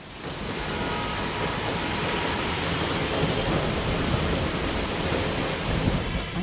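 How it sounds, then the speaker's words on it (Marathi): Heavy rain pours down steadily, a dense, constant roar of water with no break throughout. "अगदी जोराचा पाऊस सुरू झाला"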